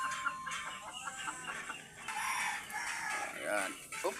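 Chickens cluck and call close by in a busy yard, a rooster-like crow mixed in, with faint talking underneath.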